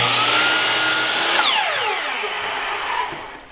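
A power saw trims the ends of wooden boards for shed windows: a loud, close motor whine that winds down with a falling pitch after the cut, followed by a brief lower rumble.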